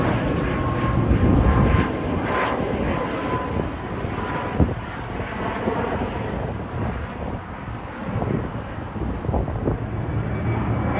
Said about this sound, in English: here goes Air Canada 777, 737 MAX. He's bound for Los Angeles, LAX.